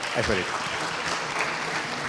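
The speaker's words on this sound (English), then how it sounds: "I think that deserves a round of applause" Audience applause at a women's conclave, a broad, even roar of clapping from a large hall, moderately loud and sustained, with a voice briefly audible at the start.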